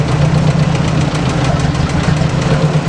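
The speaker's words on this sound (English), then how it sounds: "Needless to say, the tractor is running." An old Ford 600 tractor engine with a freshly rebuilt carburetor runs steadily, a loud continuous knocking idle with a low rhythmic throb throughout, close up and without talk.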